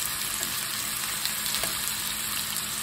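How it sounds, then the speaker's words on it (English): Potatoes for corned beef hash browning in a pan, giving a steady, even sizzle with faint crackles, close and continuous with no talking. "all we're doing now is we're just browning the potatoes."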